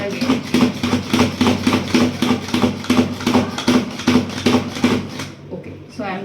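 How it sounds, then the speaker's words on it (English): Knife chopping apples on a board for oatmeal, a steady rhythm of sharp close chops, about two or three per second, continuing for several seconds before stopping. "Now I will chop it again."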